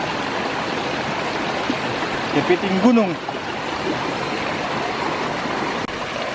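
A small forest stream trickles with a constant, close watery wash, and a brief spoken phrase breaks in near the middle.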